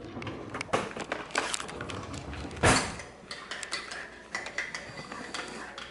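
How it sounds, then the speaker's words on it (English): A spoon stirs honey and lemon into a drink with quiet clinking and scraping taps against the cup, irregular and close, with one sharper knock midway. "And then I'm gonna stir it up."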